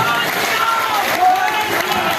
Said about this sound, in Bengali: কার্তিক পালের জন্য জোরে হাততালি দেবেন